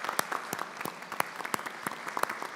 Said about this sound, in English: I want to give a round of applause to our career and technical school.